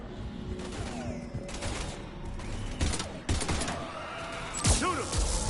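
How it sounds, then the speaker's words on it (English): Gunfire in the Mass Effect 3 video game, a chaotic stretch of rapid shots, impacts and mechanical clatter with sharp bursts near the end, mixed with game sounds and voices. "we're taking heavy fire"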